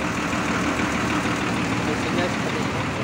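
A front-mounted diesel engine of a Hino AK3HR intercity bus idles loudly and steadily up close, a dense broadband rumble with a voice speaking over it.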